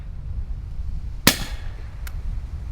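A single suppressed rifle shot fired with Callaway ballistic subsonic ammunition through a GSL Bushman series suppressor, a sharp, fairly quiet pop with a short tail and a faint metallic tick after it, outdoors.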